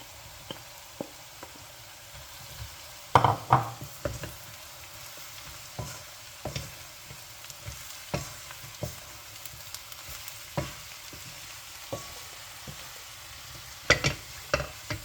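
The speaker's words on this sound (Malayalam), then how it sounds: "അപ്പോൾ അത് വറ്റിച്ച് വെച്ചേക്കുന്ന സാധനം ഇതിലേക്കിട്ട് വീണ്ടും ഒന്ന് ഫ്രൈ ചെയ്തെടുക്കുന്നു" Cooked beef sizzles steadily in a hot pan, with repeated scraping and knocking of a spatula stirring it at an irregular pace, being fried for Kerala beef roast.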